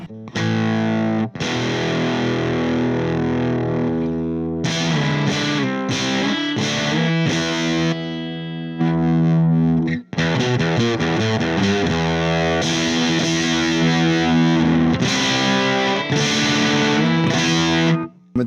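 Fender Telecaster electric guitar played through a heavy destruct distortion effect, loud sustained overdriven chords and riffs with brief pauses, no talking.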